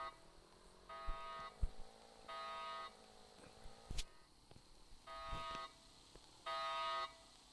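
An electronic alarm blares in four steady bursts, each lasting about a second, separated by pauses filled with faint clattering and thuds.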